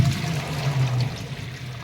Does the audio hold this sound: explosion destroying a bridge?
no